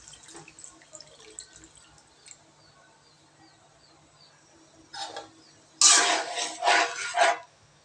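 Water is poured into a cooking pot for a shol fish curry with potatoes: a quiet stretch with faint drips, then a few loud splashing gushes near the end.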